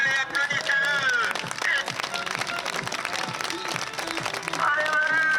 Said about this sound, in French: Un marathon par jour, allez applaudissez-le.